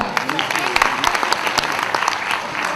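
Loud, dense applause from a crowd, steady clapping throughout with no pauses.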